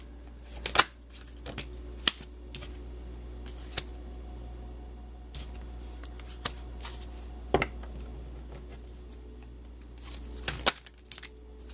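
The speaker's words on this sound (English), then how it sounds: "I'm trying to shuffle and the cards are just coming." A deck of cards being shuffled, heard as a series of quick, crisp riffling bursts spread irregularly through the stretch, fairly close and alone over a steady low hum, with no talking.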